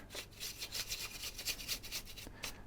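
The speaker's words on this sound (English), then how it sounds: "I'm just going to brush this dust out with trusty soft brush" A soft old paintbrush sweeps dust and cobwebs out of a Guitar Hero guitar body. Quiet, close, quick bristly rubbing strokes repeat in an even, steady rhythm.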